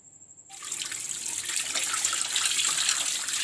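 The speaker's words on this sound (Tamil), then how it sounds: "அதுக்கப்புறம் ஒரு 3 times நல்லா வாஷ் பண்ணி எடுத்து வச்சுக்கோங்க" Running water from a tap pours steadily over fish being rinsed and washed after a rub of salt and turmeric, the splashing starting abruptly and holding loud and close with no talk.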